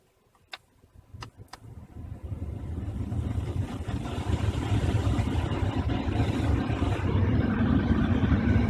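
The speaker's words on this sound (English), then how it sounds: "Let's turn on the motor." An Audi A4 B8 cabin air blower fan motor, just cleaned and greased after sticking, spins up with a few clicks and then settles into a steady, close whirring rush of air that grows slightly louder and holds.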